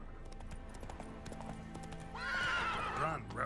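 Roach the horse gallops in The Witcher 3 video game: steady clip-clopping hoofbeats over a game soundtrack, then a loud whinny near the end.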